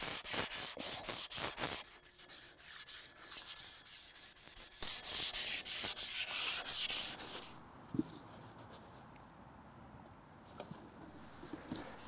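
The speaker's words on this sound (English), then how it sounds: "I'm just gonna take some sandpaper and I'm gonna rough this up a little bit for" Sandpaper roughs up a metal outdoor light pole before painting, with rhythmic back-and-forth strokes that are loud and close for about seven seconds. Then it stops, leaving quiet room sound with a few faint knocks.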